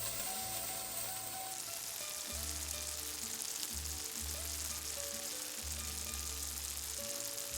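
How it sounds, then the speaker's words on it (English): Pancetta fries in a pan as its fat slowly renders, giving a soft, continuous sizzle under quiet background music. "What we wanna do is very slowly render out all of the fat."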